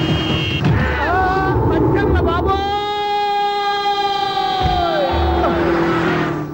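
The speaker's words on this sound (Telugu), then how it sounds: "హార్న్ ఏంటండి బాబు, సైరన్నే కొట్టాడు." A vehicle siren sounds in a Telugu comedy movie scene, a rising and falling wail over background crowd noise and a voice near the start.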